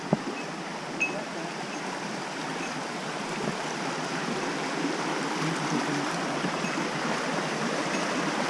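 A small river on Hokkaido rushes over a little waterfall, a steady broadband wash of moving water heard up close, even and unbroken throughout.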